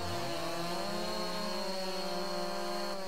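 Chainsaw in Farming Simulator 22, a steady high-pitched engine whine held at constant revs, loud and alone without speech.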